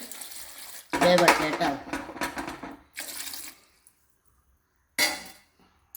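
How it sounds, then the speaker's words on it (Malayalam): Water is poured into a heavy pot of bilimbi fruit for jam, a splashing, clattering burst near the start and a shorter one near the end, with a voice talking between them. "ഇതിലേക്കൊക്കെ വെള്ളം ഒഴിച്ചിട്ട്"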